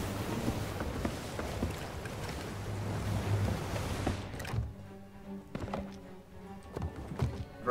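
A sailing ship in Sea of Thieves pushes into the wind at sea, with a dense rush of waves and wind that drops away into quieter water lapping and scattered wooden knocks.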